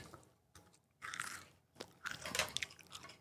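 Close, crisp crunching and biting into a hard, over-baked pumpkin spice seasoned snack, a few irregular loud crunches separated by short pauses, with no talking.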